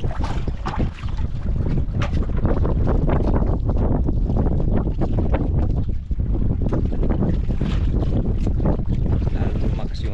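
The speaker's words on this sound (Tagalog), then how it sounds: "Grabe yung hangin na to." Strong wind buffets a small fishing boat at sea, roaring and gusting against the microphone in dense, continuous bursts, with water noise beneath and faint voices mixed in.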